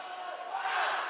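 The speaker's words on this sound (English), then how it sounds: "As you hear some huge roaring in the crowd for Unufe" A high school volleyball crowd at a Spanish Fork versus Maple Mountain match lets out a big sustained roar that swells louder toward the end, with no distinct talk over it.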